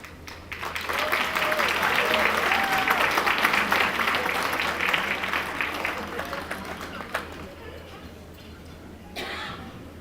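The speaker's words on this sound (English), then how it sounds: "Oba Babatunde, please a round of applause for him." Audience at an African family induction ceremony in Los Angeles applauds the inductees with sustained, full clapping that swells for several seconds, then tapers into quieter room noise with a few late claps.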